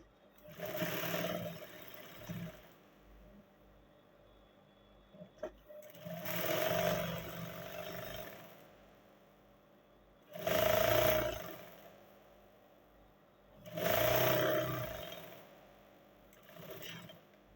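A sewing machine stitches a bubu dress in four loud, close runs of rapid, steady whirring, each a couple of seconds long, with quiet gaps and faint handling between them and no talk.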